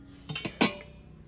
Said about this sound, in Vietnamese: Nồi thứ tư là một chiếc nồi nhỏ này.